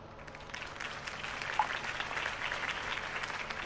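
Crowd applause from a political campaign rally in Telltale's Batman video game, a faint, steady wash of clapping heard at a distance with no voices over it.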